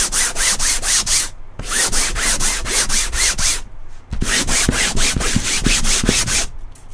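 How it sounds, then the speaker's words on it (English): Hand sanding of a painting surface, loud and close, rhythmic back-and-forth rasping strokes in two runs separated by a short pause, with no talking. "I give it a little sanding because I want the smoothest surface possible to paint on."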